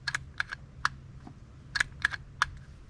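A Volquartsen Summit rifle action on a Deep Six chassis gives a series of crisp, light metallic clicks and clacks as it is cycled smoothly by hand, close and fairly quiet, in quick uneven clusters over a faint low hum.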